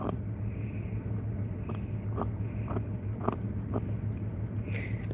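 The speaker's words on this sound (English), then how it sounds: "He loves to chew." A dog chewing on a bone close by, with a series of soft crunching bites at an irregular pace over a low steady background hum.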